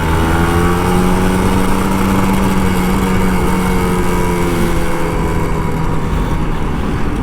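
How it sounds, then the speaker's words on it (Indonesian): An old Kawasaki Ninja RR 150 motorcycle engine running out on the road, a loud, sustained buzzing drone that holds steady with slight swells in pitch, close by and with no talk. "Emang enak sih ngegas pakai Ninja RR tuh, enak banget seriusan."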